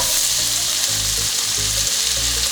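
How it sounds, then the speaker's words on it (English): Onions frying in butter in a pan give a steady, loud sizzle with low stirring thumps throughout. "We're going to put the onions in first. The butter helps get the fond off the bottom of the pan."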